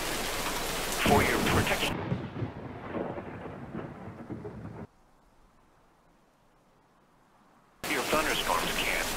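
A thunderstorm in the Roblox game Twisted: a loud, dense wash of heavy rain with rumbling thunder. It drops away into a near-silent gap before the downpour returns, and a voice speaks briefly over it.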